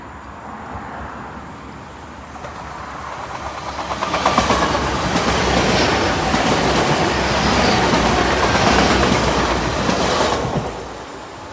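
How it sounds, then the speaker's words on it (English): An LNER Azuma, unit 802.02, running as the 15:30 Lincoln Central to London King's Cross, sweeps through Oak Farm rural level crossing, building from a distant rumble to a loud, steady roar with rhythmic wheel clatter before quickly fading. "Next up, the 1530 LNER Azuma from Lincoln Central to London King's Cross."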